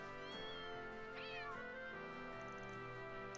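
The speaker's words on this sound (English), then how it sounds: "It plays a collection of cute cat sounds I recorded in the capital." Cute cat meows recorded in a capital city play as a minigame sound in the video game Trails beyond the Horizon, several short mewing calls over a bright layered musical score.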